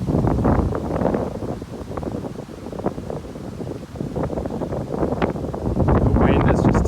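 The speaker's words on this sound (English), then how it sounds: "The wind has just taken that one." Strong, gusty wind buffets the microphone on a golf course during a blustery match, a continuous loud rumble that rises and falls throughout.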